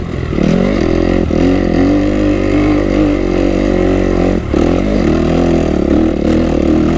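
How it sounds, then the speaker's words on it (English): A Kawasaki KX250 motorcycle engine lugs at low revs in third gear, a loud, continuous throaty drone with a few brief dips as the throttle is eased, close to the bike. "So I'm going to try and lug it up in third gear."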